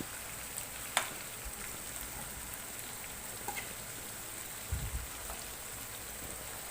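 Fish frying in a pan, a faint, even sizzle like light rain with a scattering of small pops and a couple of soft knocks.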